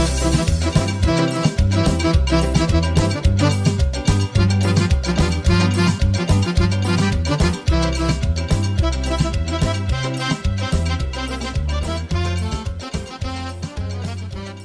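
A song plays loudly: a dense musical track with a steady pounding beat and continuous instrumentation throughout.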